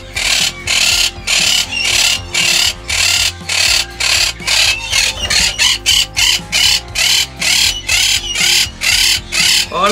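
A lory or lorikeet parrot screeches loudly and repeatedly near its cage, sharp harsh calls coming in a fast regular series close by, with no talking.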